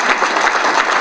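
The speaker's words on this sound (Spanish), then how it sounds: "un fuerte aplauso, de verdad, para ti" A short burst of dense, loud applause from a meeting audience, many hands clapping together in an even wash of sound.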